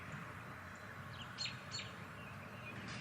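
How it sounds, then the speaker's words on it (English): Birds chirp outdoors during the 2024 solar eclipse, a few faint, distant tweets breaking through a soft, steady background hiss, with one brief pair of calls standing out midway. "And the birds are calming down."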